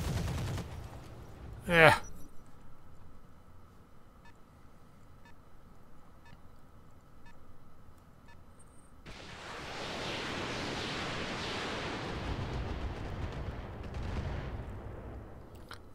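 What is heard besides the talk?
mech weapons firing in video game Roguepoint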